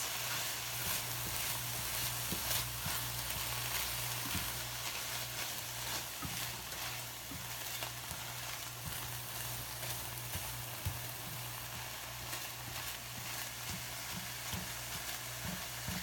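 Ground meat browning in a pan for shepherd's pie, a faint, even sizzle running steadily with a low background hum and occasional tiny crackles.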